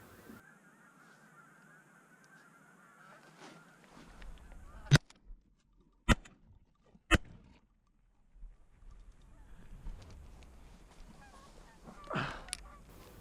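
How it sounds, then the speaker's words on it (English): Wild geese honking as they take flight during a Colorado waterfowl hunt, faint calls against quiet open air, broken by three sharp, loud bangs in quick succession and more scattered honks afterward. "And eventually the geese start to fly."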